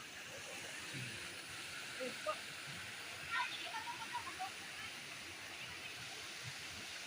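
A clean, cold waterfall in Barangay Diongan, Siayan, Zamboanga del Norte rushes with a steady broadband hiss, faint and even, while a few soft bird-like chirps and sparse sounds pop over it.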